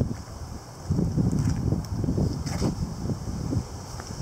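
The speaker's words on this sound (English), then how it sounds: "Yeah, these winds have picked up again," Gusty wind buffets the microphone in low, rumbling bursts that rise and fall irregularly, with no voices.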